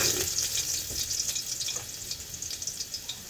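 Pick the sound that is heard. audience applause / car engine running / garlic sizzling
garlic sizzling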